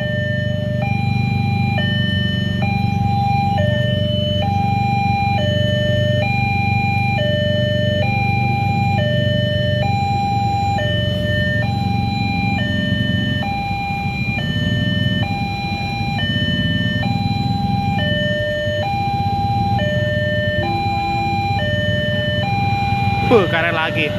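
Railway level crossing alarm at JPL 99 Tambun, Kompas, a single alarm ringing a steady, repeating two-tone electronic pattern, loud and close, over continuous low traffic rumble for the whole span.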